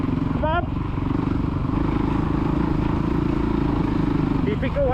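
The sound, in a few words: kid's motocross bike engine revving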